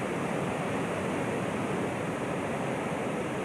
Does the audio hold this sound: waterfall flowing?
yes